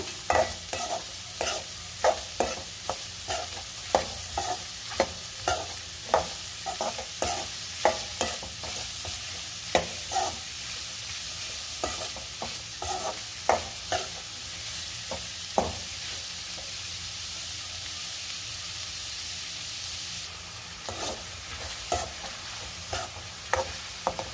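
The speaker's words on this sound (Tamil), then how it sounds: "சேர்த்து இதையும் நல்லா ஃப்ரை பண்ணுங்க" Finely chopped onions frying for paneer butter masala, a constant sizzle broken by regular scraping strokes of a spoon stirring the pan roughly every second, close and clear with no voices.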